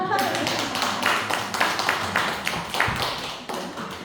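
Members of a church congregation at a Wednesday evening service clap while a voice speaks over them, the dense overlapping hand claps close and moderately loud under the talk.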